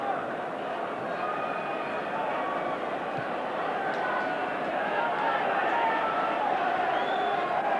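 A vast football crowd at Villa Park during an FA Cup semi-final between Arsenal and Wolves fills the air with a steady, dense roar and murmur, with a commentator speaking over it.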